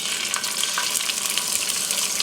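Small, dried pheasant pieces sizzle steadily in a frying pan, making a loud, continuous crackling hiss close up with no voices.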